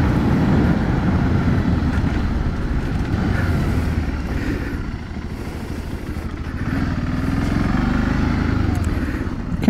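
BMW G 650 GS Sertao motorcycle riding off-road on easy local dirt routes, engine rumbling loud and continuous close up with wind buffeting and rough clatter, rising and easing slightly as it moves.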